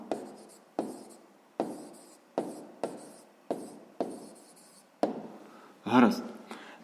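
Pen writing on paper during a fifth-grade maths exercise, producing a series of short scratchy strokes in an uneven rhythm, close and fairly quiet, with a brief voiced sound near the end.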